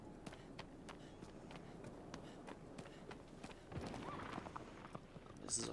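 Hooves of a horse in the video game Shadow of the Colossus clop in a regular trotting rhythm, fairly faint, with a short burst of louder movement partway through and brief talk from a player.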